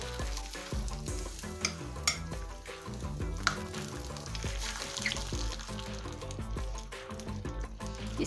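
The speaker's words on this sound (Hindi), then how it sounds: "इसको हम अच्छे से मिक्स कर लेंगे।" Carrot pickle, gajar ka achar, being stirred in a pan after hot tempering is poured in: steady sizzling and frying with scraping spoon strokes and occasional clinks against the metal pan, close and continuous.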